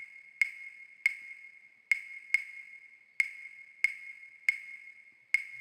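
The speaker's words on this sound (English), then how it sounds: "son clave is one of the most common types of clave" A son clave rhythm struck on a clave, sharp bright wooden clicks falling in the uneven 3-2 pattern, repeating cleanly and alone with short ringing decays.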